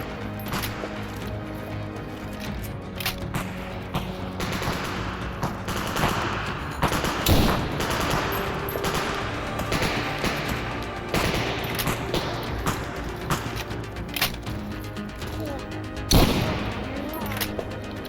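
Gunshots from the IZH-18 rifle chambered in 7.62 in the Stalker Zona mod pack, with moderately loud reports over steady game ambience and a couple of sharper, louder cracks standing out.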